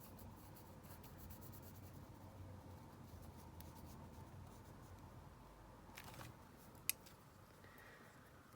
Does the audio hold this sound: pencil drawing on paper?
yes